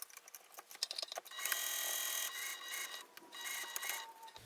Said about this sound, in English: let's go ahead and start sewing the exterior pieces together using that two-part method